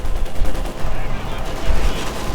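Dense gunfire fills a World War II-era real-time strategy battle between Soviet and German forces: rapid machine-gun bursts and heavier booming shots overlap continuously, loud and close, with no pauses.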